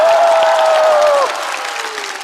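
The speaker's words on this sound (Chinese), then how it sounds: "我们再次把掌声送给李雪琴。" Studio audience at a comedy roast show breaks into applause for Li Xueqin, a dense burst of clapping that drops to a softer level halfway through, with a sustained tone running over it.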